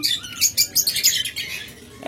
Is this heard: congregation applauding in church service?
no